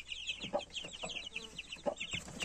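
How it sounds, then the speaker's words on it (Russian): A hen with her chicks in an outdoor cage clucks in short low calls while the chicks peep in a rapid, high, overlapping chorus, close by. "Курочку с цыплятами перевел на улицу"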